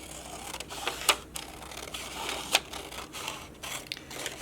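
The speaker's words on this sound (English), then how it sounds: "then you can cut it right down that fold you just made" Scissors cut through folded paper along its crease for a craft kit, a steady close rustling crunch with a few sharper snips standing out, no voices.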